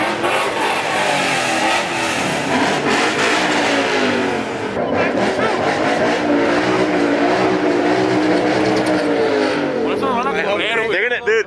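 At a car meet with a widebody 350Z, a Boss 302 and trucks, engines rev loudly and repeatedly in close, rising and falling roars with a continuous crowd murmur and voices underneath.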